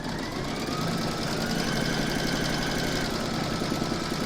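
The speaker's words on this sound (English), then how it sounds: "We're now going to stitch round number 4, and that's going to secure the rest of these 2 fabrics down." Embroidery machine stitching an in-the-hoop crazy patch evening bag, a fast, steady mechanical needle rhythm humming evenly and close up with no talk.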